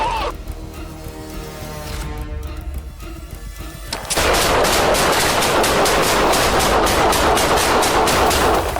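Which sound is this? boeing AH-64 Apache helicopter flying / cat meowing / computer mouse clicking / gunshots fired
gunshots fired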